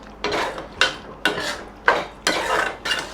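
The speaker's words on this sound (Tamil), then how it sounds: "நல்லா வதக்கிக்கிட்டே ஒரு 2 நிமிஷம் வேகட்டும்" Spoon scrapes and clanks against a pan while potato and capsicum gravy is stirred and sautéed, in five distinct bursts of scraping at a steady rhythm, close and clear with no talk.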